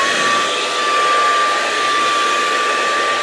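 Steady heat gun blowing while warming the vinyl wrap on a Tesla Model Y, a constant close airy whoosh with a thin whine, unbroken throughout with no talking.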